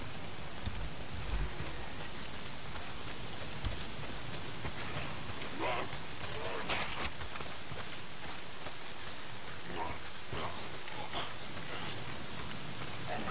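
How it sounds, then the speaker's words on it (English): Steady rain pours down across a game world in Days Gone, a constant dense hiss of drops on surfaces with faint scattered patters, filling the whole stretch without any talking. "Why is it always raining?"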